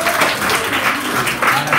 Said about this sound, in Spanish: Un aplauso para André.